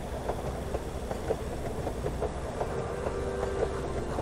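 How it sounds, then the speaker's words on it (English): Transport train rolling along in the Henry Stickmin Collection game, a steady low rumble with faint repeating clacks throughout, fairly quiet and continuous with no talking. "The transport train."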